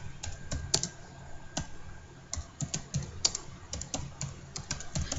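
Fingers type on a computer keyboard, entering a web page title: irregular clusters of crisp key clicks with short pauses between bursts, close and fairly quiet, with no voices.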